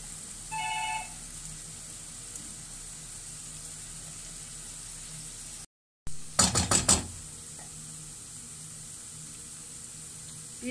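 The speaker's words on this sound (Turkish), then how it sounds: "Üç dişte sarımsak var. Onu da doğruyorum." Three garlic cloves being chopped with a knife while cooking spinach with rice: a quick burst of four or five close, sharp chops on a board over a steady low kitchen hiss, with no talking.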